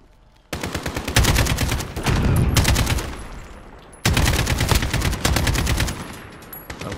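Rapid automatic gunfire from Call of Duty Modern Warfare Infected mode, two long loud bursts of fire separated by a short pause, close and dominant.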